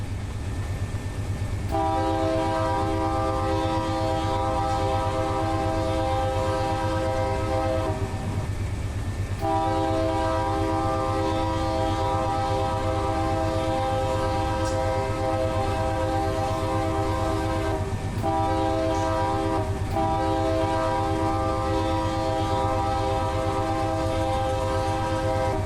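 An autorack freight train in the Run 8 train simulator on the Fresno to Bakersfield route sounds long, loud horn blasts in several separated bursts over a steady low rumble of rolling cars.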